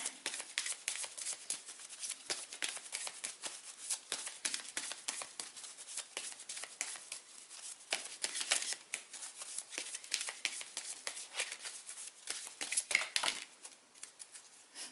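Tarot cards are shuffled and drawn with steady papery flicks and soft slides, close and quiet, continuing without pause and with no talking.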